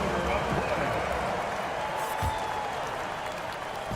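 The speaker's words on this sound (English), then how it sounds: "Fans, please give a big round of applause for your Clippers Youth Dance Team." Steady crowd applause and cheering fill an NBA 2K23 basketball arena during a Clippers home game, a dense, even wash of clapping that holds throughout at moderate loudness, with faint voices mixed in.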